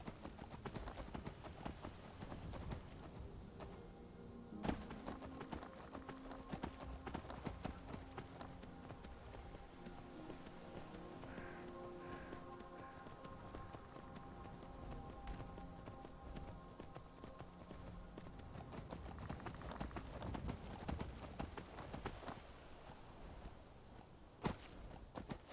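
Horse hooves clip-clop at a steady walking rhythm while riding in Skyrim, close and continuous over a soft ambient game backdrop, with no talk.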